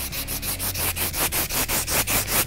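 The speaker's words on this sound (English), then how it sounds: "Now as I'm sanding this down, I want to sand in this direction" Adhesive-backed sandpaper rubbed back and forth along a beam for setting up a guitar, a loud, close, rhythmic scratching with about a dozen even strokes and no talking.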